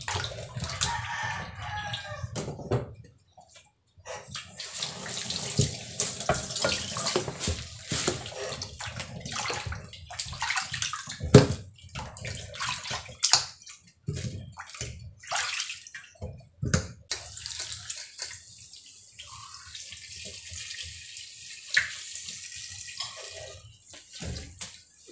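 Ube yams are scrubbed and rinsed under a running kitchen tap, water splashing and gurgling steadily for the whole stretch with no talk, while a rooster crows faintly in the background.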